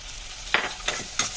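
Onions sizzle quietly in a pan for radish sambar while a spoon scrapes and stirs three times, each stir bringing a brief louder burst of frying.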